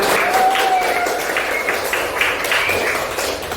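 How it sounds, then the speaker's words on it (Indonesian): Students in a classroom lesson clap together in a lively burst of hands that carries on for several seconds, with a few voices calling out over the clapping. "Tepuk tangan."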